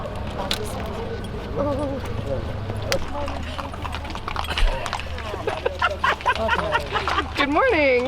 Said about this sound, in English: we're listening and watching the horse carriages that we're about to take right now